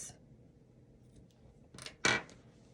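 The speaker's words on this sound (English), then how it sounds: "Now you're going to take your scissors and cut it close." Scissors snipping off a crochet yarn end close to the stitches: a couple of quick, crisp cuts near the end, close and fairly quiet against a faint room background, with no talking.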